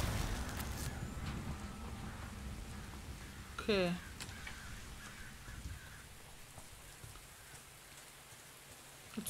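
Steady rain in the video game The Invisible Hours hisses outside, a soft continuous patter with a brief bird call and a low murmur of voices underneath.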